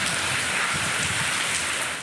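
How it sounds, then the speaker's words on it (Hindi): Heavy rain pours in a steady, dense downpour across towns in Pakistan's Punjab (Kasur, Jahanian, Kamalia), a loud, even hiss with no voices. "कसूर, जहानिया और कमालिया में गरज चमक के साथ मौसलाधार बारिश हुई।"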